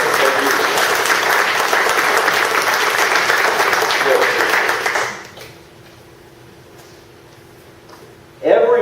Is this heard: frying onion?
no